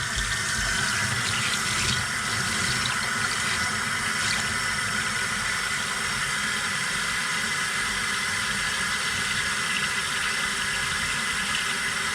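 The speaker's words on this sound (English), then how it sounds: "Let's fill up some water." Steady running water from a tap pours continuously into a sink or container, a constant splashing rush with no talk.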